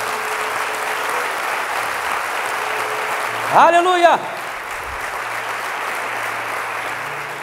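Applause from a church congregation during an evening Sunday sermon in Portuguese, a steady broad wash of clapping throughout with a brief shouted exclamation from a voice partway through.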